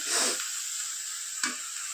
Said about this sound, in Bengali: আমার দুই কড়াইতে রান্না চলছে